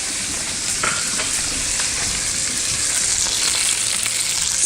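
Blackened fish sizzles and fries steadily in a hot pan, a continuous loud crackling hiss with occasional sharper pops, heard alone without talk.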